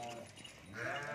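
Sheep and lambs bleat on a goat farm in Pakistan, a steady close chorus of overlapping calls that swells louder toward the end.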